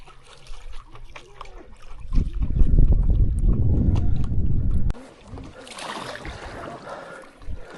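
Water lapping and wind gusts around a stand-up paddleboard on a lake reservoir in autumn, a steady low rush swelling midway then giving way to lighter splashing and breezy hiss, with a voice briefly heard.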